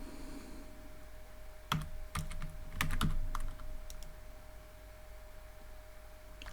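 Irregular bursts of key clicks from a computer keyboard as code is typed, close and fairly quiet over a steady background hum, with short pauses between clusters of keystrokes.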